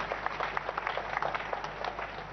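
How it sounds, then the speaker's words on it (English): A church congregation claps for Jesus Christ, a steady, dense patter of many hands with a low hum underneath, filling the room without speech. "Let us clap for Jesus Christ."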